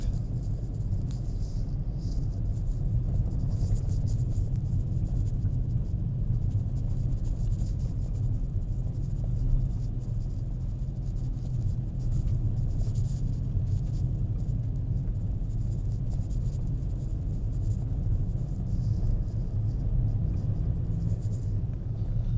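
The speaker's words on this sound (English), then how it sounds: "Now I'm in second gear, because this is very steep." A car engine laboring up a steep mountain road in second gear gives a steady, continuous low rumble from inside the cabin, loud and unbroken with no talk.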